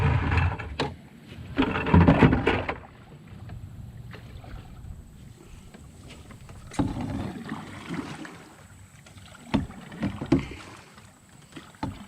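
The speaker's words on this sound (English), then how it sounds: "bass boats aren't necessarily meant to be paddled" A bass boat is paddled across the water, with irregular bursts of close paddle strokes and splashes separated by quieter stretches of soft water and wind.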